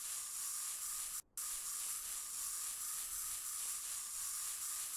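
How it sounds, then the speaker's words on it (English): Spray paint can hissing in the workshop video game Workshop Simulator, a steady bright hiss held for several seconds with one brief break near the start. "This is spray paint."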